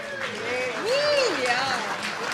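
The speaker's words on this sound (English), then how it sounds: "Let's turn around and give all the technicians a round of applause." A crowd applauds technicians and a production crew at an event, with steady clapping mixed with whistles and voices over it.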